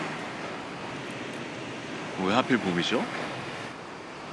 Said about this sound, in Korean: 파도 소리 좋지 않아요?